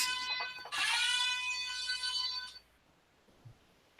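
An electronic alarm blares loudly and steadily with a harsh buzzing tone for about two seconds, then cuts off abruptly, leaving near silence.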